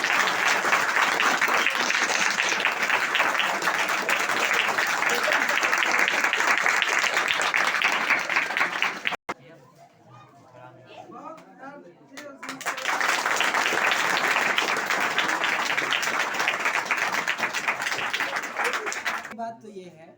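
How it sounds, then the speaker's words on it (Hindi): A school audience of students breaks into loud, sustained applause, drops to near silence for a few seconds, then claps strongly again in a second long round. "ठीक है, एक बार जोर से ताली बजाइए"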